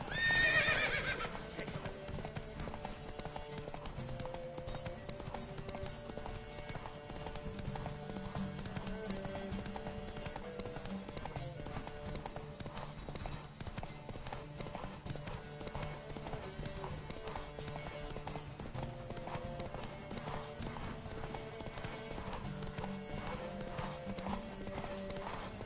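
Rhythmic clip-clop of galloping hooves in a horse race in The Witcher 3 runs steadily with a horse whinnying near the start, all set over a continuous background music track.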